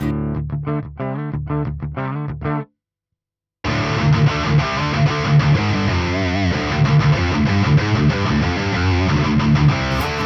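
Heavily distorted electric guitar chords through a Boss distortion pedal ring out, stop for about a second of silence, then return as a dense, continuous overdriven riff.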